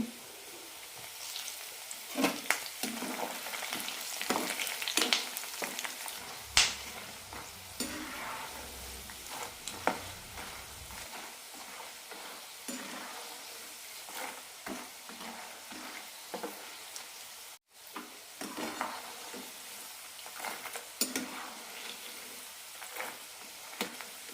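Curry leaves frying with masala peanuts in a pan of oil, a close steady sizzle broken by scrapes and knocks from stirring, strongest early on and alone without speech.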